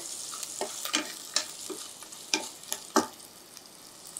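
Garlic sautés in oil in a pan for Kongu-style arisi paruppu sadam, a quiet low sizzle punctuated by several sharp, close spoon scrapes and taps at an uneven pace, with no speech.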